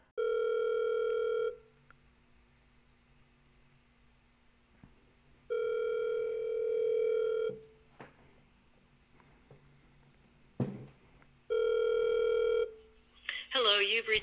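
A phone line rings back in three long evenly spaced tones with silent gaps between them, clear and close, as a call goes through; a voice starts at the very end.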